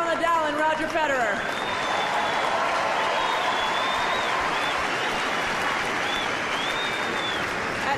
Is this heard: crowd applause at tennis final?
yes